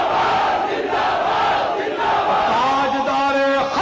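Large crowd chanting a religious slogan in unison at a packed religious gathering, loud and dense, with a voice rising above the mass toward the end.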